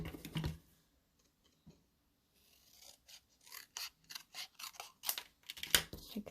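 Scissors snipping through card stock to halve a 12 x 12 sheet, a run of short close rasping cuts after a quiet pause, fairly faint and with no talk.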